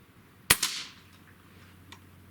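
A JTS Brawn air gun fires a single sharp crack, quickly followed by a smaller impact snap, then a faint later tick against a quiet background.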